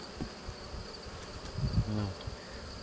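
Honey bees droning steadily around an opened hive, a close, continuous buzz with individual bees passing near, while a few brief bumps and low handling noises break through.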